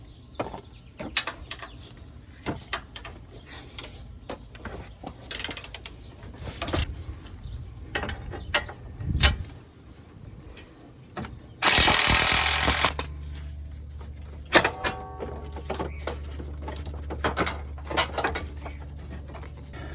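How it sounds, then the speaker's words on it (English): Socket wrench and impact tool removing shock absorber bolts on a Nissan Armada or Infiniti QX56 during a subframe lift kit install, with scattered metallic clanks and taps, a loud burst of rattling about a second long, then a lower steady hum. "We're going to use a 19mm socket on the top and the bottom."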